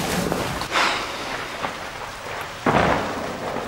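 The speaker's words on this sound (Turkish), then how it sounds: "hala şıkır şıkır yağıyor" Heavy rain pours steadily in a dense, continuous hiss, with a couple of louder surges that could be distant thunder rumbles.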